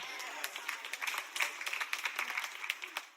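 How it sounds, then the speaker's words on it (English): A small scattering of people in a church congregation clap for a few seconds, sparse uneven claps in a reverberant hall, fairly light and thin rather than a full round of applause. "only 3 people clap"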